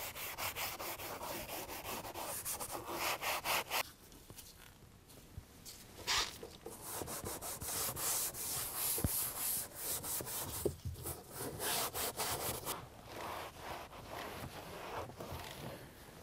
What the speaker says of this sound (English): we'll come back with our scuff pad and we just lightly scrub that